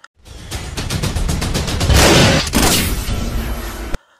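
Rapid gunfire in an Indian action film crackles in a dense, loud burst, with sharp repeated shots and a rumbling boom building through the middle before cutting off abruptly.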